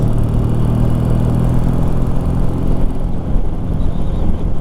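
A barn-find Triumph T140 motorcycle runs steadily during a ride, its engine making a loud, continuous droning rumble mixed with wind rush, close and with no talking.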